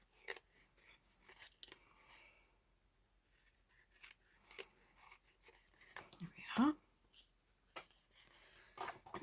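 Scissors snip and trim a vintage paper ephemera page up close, a few quiet crisp cuts among soft rustles and faint murmured speech.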